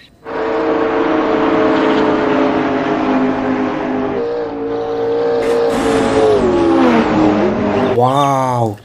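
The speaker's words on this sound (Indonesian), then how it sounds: "Widih, ada mobil balap." Toy race car giving a loud, sustained whining engine rev that holds steady then climbs in pitch, ending in a rising-and-falling warbling siren-like tone.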